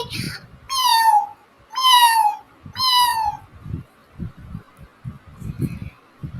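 A cat gives three clear, drawn-out meows in a row, close and fairly loud, followed by a few soft, low knocks and rustles.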